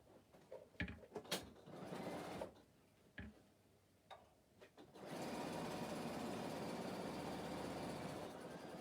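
A sewing machine stitches a pocket onto a fabric bag, starting with scattered clicks and short whirring bursts, then settling into a steady, continuous mechanical hum close by, with no voices.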